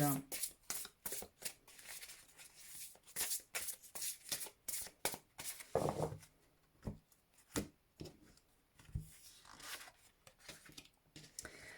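Tarot cards shuffled and drawn at close range, a quick series of crisp riffling and slapping bursts that come and go unevenly, with some talk at moments.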